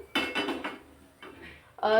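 A cooking pan is set down ready for roasting sesame seeds for til-gul laddoos, giving a few close metallic clanks and clatters followed by a brief rattle.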